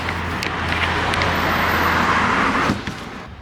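Main-street traffic on an Australian east coast road trip: a loud, steady roar of passing vehicles that eases off near the end.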